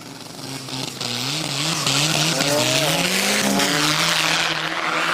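A hard body truck drag racing at a spectator drags event spins its tires struggling for traction, engine roaring loud and steady while the note climbs and wavers through several seconds of squealing tires, close and continuous.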